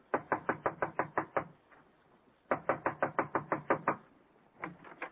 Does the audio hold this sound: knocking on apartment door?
yes